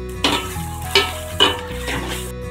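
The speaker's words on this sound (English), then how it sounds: "By the time my onions are getting brown" Onions frying toward light golden brown for a chicken korma sizzle under several sharp stirring scrapes against the pan, with a low steady hum in the background.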